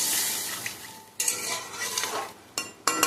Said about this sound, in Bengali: ভালো করে আর একটু নাড়িয়ে এবার আমি পরিমাণ মতো জল দিয়ে দেবো